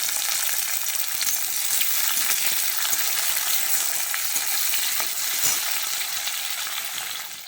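Chopped tomato and green chillies sizzling with fried onion in a pan, a steady bright crackling hiss close by that holds at an even level throughout, with no voices.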